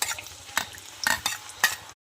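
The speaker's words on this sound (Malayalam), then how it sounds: "എണ്ണ ചൂടായി കഴിയുമ്പോൾ അതിലേക്ക് ഇതിടുക." Flax seeds and black cumin crackle in hot oil for a homemade hair oil, a steady close sizzle broken by a few sharp stirring scrapes and clinks, with no talk.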